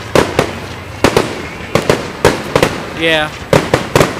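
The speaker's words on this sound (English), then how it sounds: "The fireworks have started." Fireworks burst at a Fourth of July show in a park: sharp booms repeat at uneven intervals, loud and close, with a crackling whistle in between and a voice speaking briefly.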